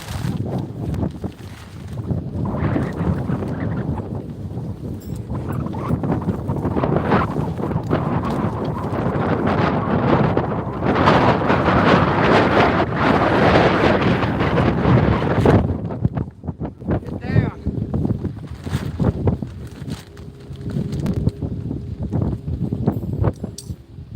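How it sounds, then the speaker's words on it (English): Steady wind buffets a boat out on open water, a broad continuous rushing roar with gusty swells that eases slightly near the end. "That's where the wind's going straight at us on that."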